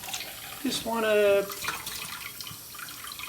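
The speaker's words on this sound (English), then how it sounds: "here, we can just turn the sink on a little bit" A kitchen sink tap is turned on a little while someone tends a sauerkraut crock. Water runs briefly for about half a second, with a squeaky tonal rush, as a person talks over it.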